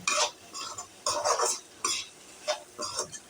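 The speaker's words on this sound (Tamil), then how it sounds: "மசாலா சேர்த்துட்டு நல்லா இந்த மாதிரி கலந்து விட்டுக்கிறோம்" Spoon scraping and stirring ground masala into beans poriyal in a pan, heard as a series of close, irregular scrapes and clinks in short bursts, with no one speaking.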